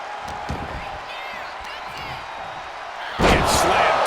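Wrestler slammed down onto the mat in the WWE 2K25 video game, with a sudden heavy impact near the end that follows commentary and faint crowd noise.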